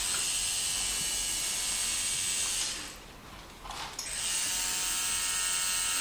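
Tattoo machine fitted with a round shader needle, a close, steady high-pitched buzz that drops away briefly for about a second midway, then resumes.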